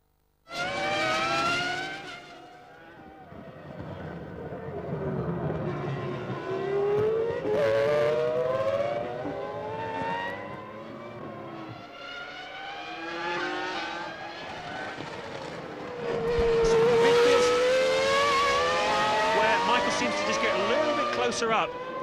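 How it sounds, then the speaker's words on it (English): Formula 1 cars racing up the hill at Interlagos during the 2001 Brazilian Grand Prix, including the Ferrari and Montoya's car, with engines whining and shifting in pitch under continuous commentary from two broadcasters. "Up to Montoya, and it's just pulling up the hill where the engine power is all important, Martin."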